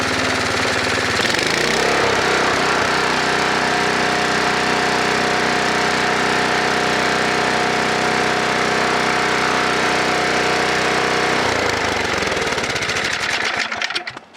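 A snowblower engine runs steadily at full throttle, a loud, continuous droning roar that holds for most of the time before dropping off near the end.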